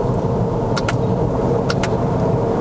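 A Toyota Corolla Sport 1.2T turbo with a CVT on a Malaysian test drive gives a steady, close engine and road drone inside the cabin, with a few faint clicks over it.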